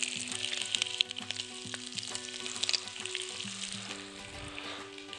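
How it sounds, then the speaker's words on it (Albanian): Shrimp fry in a little olive oil, giving a steady close sizzle with crackling pops and occasional scraping and stirring, no talking. "Karkalecin do të lejmë atë dy anë që të skuqet, me pak vaj ulliri"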